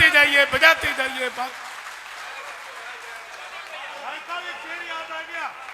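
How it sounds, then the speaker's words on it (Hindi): Audience applause swells under a loud, sustained voice at the start, then continues more faintly as steady background clapping while the voice speaks over it intermittently. "आप लोग जोरदार तालियां बजाते जाइए, बजाते जाइए, बजाते जाइए।"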